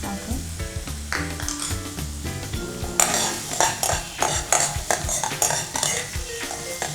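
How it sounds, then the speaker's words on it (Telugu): Garlic and green chillies sauté in a hot pan with a steady sizzle, and a spoon clinks and scrapes against the pan in quick strokes, growing busier partway through. "సో లైట్గా ఇలా సాతే అవుతున్నప్పుడు"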